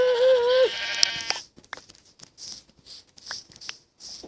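A single sheep bleat from a video game, clear and fairly loud, followed by soft scattered clicks and taps.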